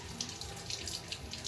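Tap water runs steadily into a tub to warm a cat's bath, a close, continuous splashing rush with no pauses.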